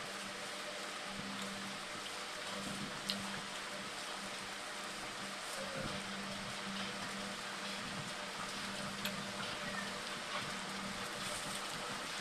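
Rain falls steadily outside during a home meal, a constant soft hiss with a low hum underneath and no voices.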